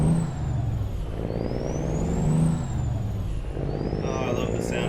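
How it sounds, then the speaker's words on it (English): Diesel engine of a Kenworth K100 truck in American Truck Simulator, pulling away with a low steady rumbling drone that rises and falls slightly as it revs, with a faint whistle over it. "Oh, I love the sound of this truck."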